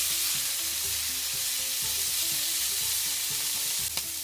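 Prawns and salmon sizzle steadily in a hot frying pan, a close, bright crackle with a brief clatter near the end as pieces are turned.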